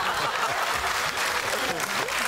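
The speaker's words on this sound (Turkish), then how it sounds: "Onu bir kez daha alkışlıyoruz" An audience on a Turkish televised dance competition applauds a contestant named Pascal, with steady, dense clapping filling the whole moment, loud and continuous from start to finish.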